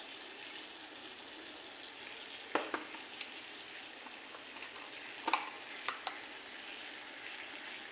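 Water boiling in a pot as spices are added, a soft steady bubbling hiss at low level, broken by a few sharp clinks and taps of utensils.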